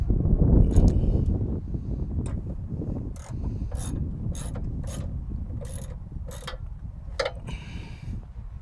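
Ratchet tightening a factory bolt on a slider step for a Jeep JK Rubicon: a rumbling handling noise at first, then a series of sharp, close ratcheting clicks in short irregular bursts.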